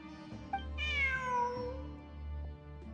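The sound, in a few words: cat meowing in the video game Genshin Impact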